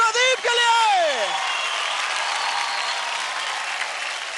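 A studio audience on a televised dance show claps for Pradeep after his performance. A sustained wash of applause follows a short sung or spoken phrase at the start.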